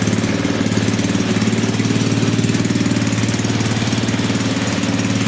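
A snow blower engine runs steadily and loud throughout, a continuous rough mechanical drone with a rapid pulsing chug, unbroken and close by.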